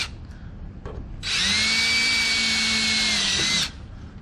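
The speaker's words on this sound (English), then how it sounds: "So I'm kind of pre-drilling" A power drill pre-drills a hole in the wall of an ice shanty, a single steady whine lasting about two seconds after some faint handling noises, close by with no talking.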